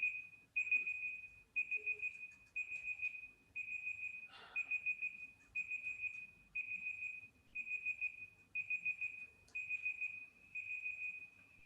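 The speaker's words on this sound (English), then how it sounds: "That was my alarm." An alarm beeps insistently in a lecture room, sounding as repeated rapid bursts of high electronic tones in a steady rhythm, fairly quiet and alone without talk.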